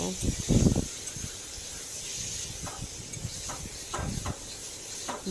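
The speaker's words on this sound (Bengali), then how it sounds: "এটা আমি আর কিছুক্ষণ চুলার উপর রেখে নাড়াচাড়া করব।" Bengali rohu fish tail curry sizzles on a stove as it is stirred, giving a steady close hiss broken by louder scraping bursts near the start and again around four seconds.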